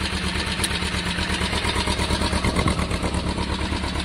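A Kawasaki ER5 motorcycle engine idles steadily while warming up without choke, a close, even mid-pitched putter with a regular pulsing rhythm and no voices.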